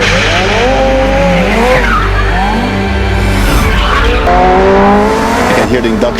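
A McLaren Senna road car in the video game Need for Speed No Limits howls through shifting engine tones with induction noise and squealing tires, loud and continuous throughout.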